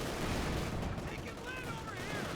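Heavy .50 cal machine gun (M2HB) fire in the WWII strategy game Company of Heroes 2, a dense, continuous rattle of gunfire mixed into loud battle noise and distant shots.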